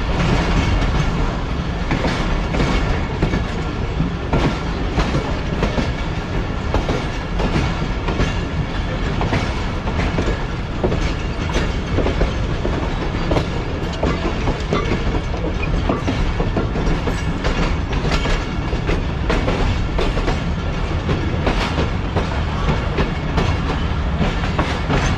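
The Rehman Baba Express pulls out of Hyderabad Junction railway station on its Karachi to Bahawalpur run, with a steady, loud rumble and continuous clickety-clack of wheels over rail joints throughout.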